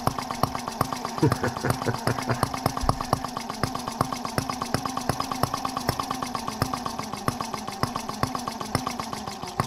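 A small Benz R18 model gas engine with a slide valve runs at a slow, even pace, giving a close, regular train of sharp firing pops and mechanical clatter throughout.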